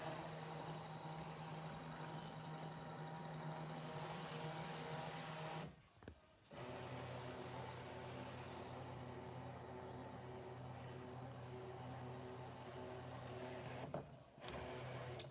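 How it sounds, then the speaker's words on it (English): A Brother ScanNCut cutting machine running a background scan, a steady low mechanical hum and whir that stops briefly twice, heard close and alone. "I'm going to do a background scan and set the machine to start."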